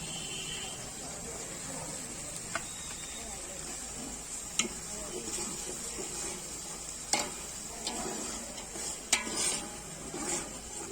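Onion cooks in a pan on a wood-fired clay stove on a rooftop, a faint, steady sizzle broken by occasional light clinks and scrapes of a utensil against the pan.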